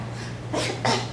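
Two quick, breathy bursts, one after another, as a person imitates a sneeze with their voice, close and moderately loud over a faint steady hum.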